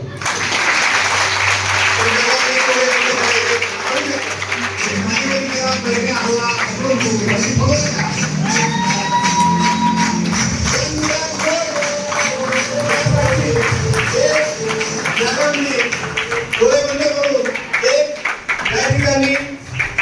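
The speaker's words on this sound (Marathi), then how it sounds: "ज्यांनी जेवढी जोरात टाळी वाजवली त्यांचं नाव निघेल" Loud, sustained applause from an audience at a lucky draw event, continuous clapping with crowd noise and voices mixed in throughout.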